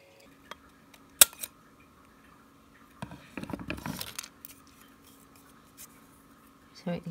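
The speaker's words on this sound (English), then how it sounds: "we're going to be drawing a nib on it" A pen drawing a green nib onto a paper faux ostrich feather quill for a Halloween decoration, heard as faint, scratchy strokes and rustling in a quiet room, with a few sharp clicks and taps around them.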